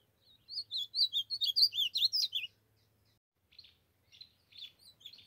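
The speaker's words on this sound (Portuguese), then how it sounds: "E olha o passarinho cantando na cara do azul aí, ó." A songbird sings a bright, rapid run of chirps and whistles close by beside a caged blue grosbeak (azulão) outdoors. It pauses, then gives a few shorter phrases, over a faint low hum.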